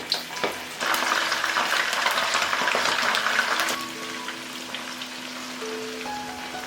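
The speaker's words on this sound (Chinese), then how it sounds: "炸茶叶的油我们继续用来炸虾，一个一个分开放进来" Shrimp coated in a thin layer of starch are dropped one by one into oil previously used for frying tea leaves, bursting into a loud, dense sizzle that holds steady for a few seconds, then thins to a quieter crackle.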